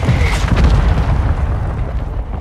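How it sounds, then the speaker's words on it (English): Heavy mortar strike explosions in a Call of Duty Search and Destroy match, a deep rumbling boom that rolls on and slowly fades over a few seconds, loud and close. "Our mortar strike is inbound."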